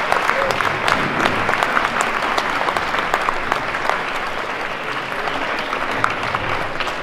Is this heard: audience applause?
yes